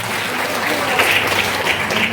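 An audience in a digital marketing class breaks into steady, dense applause that carries on throughout at close range.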